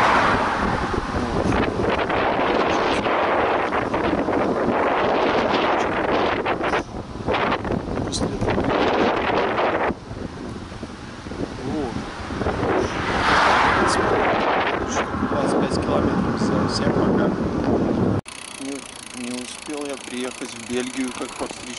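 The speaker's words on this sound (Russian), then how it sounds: "Ветры." Strong headwind buffets the microphone while riding a bicycle on a long road journey across Belarus, a loud continuous roar of gusts with brief lulls, cutting off near the end.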